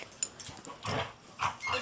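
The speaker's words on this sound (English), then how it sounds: "Those are her play growls." A dog makes short, low grunting growls in quick uneven bursts, close by and fairly quiet, with faint soft whines mixed in.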